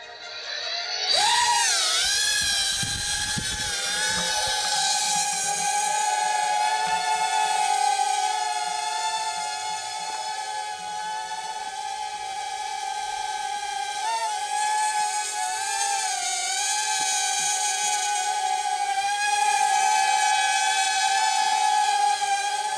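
A Star Wars T-65 X-Wing quadcopter drone spins up and lifts off, its motors rising into a loud, steady high-pitched whine that wavers slightly in pitch as it hovers, continuous and close, with no speech.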